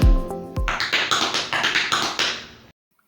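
Tap shoes on a hard floor performing paddle steps, heel digs, spanks and ball digs, in a quick run of about a dozen crisp, close taps after a louder opening strike, alone with no talk.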